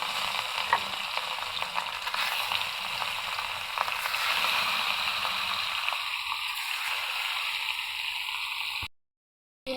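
Belly pieces of rohu fish fry in hot oil in a pan for a brinjal rohu bhuna, producing a constant close sizzle with faint scraping, before cutting to sudden silence near the end.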